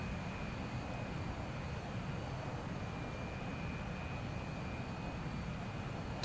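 An airplane taxiing in a video game gives a steady, continuous broadband engine roar with a faint high whine, constant in loudness from start to finish.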